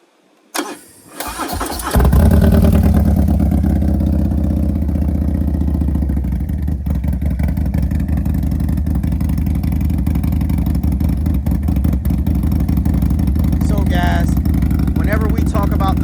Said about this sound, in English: I'm going to start up the bike so that you guys can hear this thing rumble